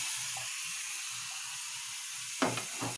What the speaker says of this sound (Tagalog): Magpakulo lang tayo ng tubig dahil madali lang naman to